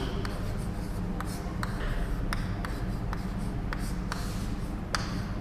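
Chalk or marker writing out a maths question on a board, a steady scratchy scrawl with small taps at stroke ends, close and continuous with no talk.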